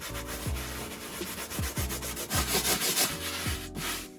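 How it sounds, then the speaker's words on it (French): Small brush scrubbing foam into a car's carpet in quick, regular back-and-forth rasping strokes, close and fairly loud, with no voices. "avec la petite brosse, on vient frotter."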